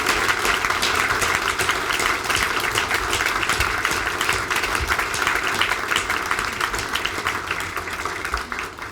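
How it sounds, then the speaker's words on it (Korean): Sustained crowd applause at an honorary doctorate ceremony for Korea University's president at Yonsei University, a dense steady patter of many hands clapping throughout, filling the hall without pause. "큰 박수 다시 한번 부탁드립니다."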